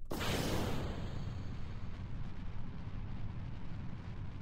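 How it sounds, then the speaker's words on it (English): In Kerbal Space Program, a rocket explodes in a loud, sudden burst that settles into a long, dense roar and rumble, with no talk over it. "I'm expecting another very large explosion."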